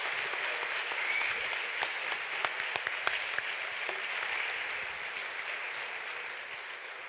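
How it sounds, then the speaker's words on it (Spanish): Applause from a summit audience in Rapa Nui, a broad steady patter with a few sharper individual claps standing out, moderately distant and gradually easing off toward the end. "Un gran aplauso para Charles Moore"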